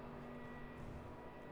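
A Southwest Airlines jet at Charlotte airport gives off a steady broadband roar from some distance, an even drone with a faint tonal hum that runs without a break and with no voices over it.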